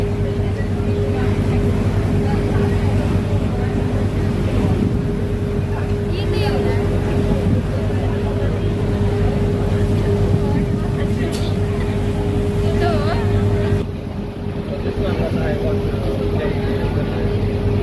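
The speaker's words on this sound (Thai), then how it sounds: "ก็จะออกเรือมาแบบฟรีเลยเนาะ" A boat heading out on the water gives a steady, droning engine hum throughout, with someone talking over it and a slight drop in level near the end.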